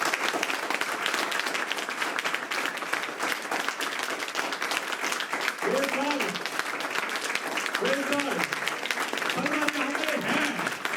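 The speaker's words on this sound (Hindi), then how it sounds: "हाथ नीचे कर ताली मार के बता दे जो भरना चाहते हैं।" A church congregation at a Pentecost meeting claps steadily and densely throughout, while a preacher's voice speaks over the clapping and grows more prominent toward the end.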